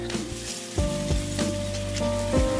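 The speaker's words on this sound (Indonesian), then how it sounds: "Aduk-aduk masak sebentar cukup sampai semua tercampur rata." Shrimp and quail eggs stir-fry in a pan with a steady sizzle, broken by the scrape and clack of a utensil stirring every so often.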